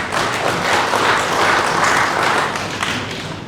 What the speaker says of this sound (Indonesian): Tepuk tangan untuk Bali.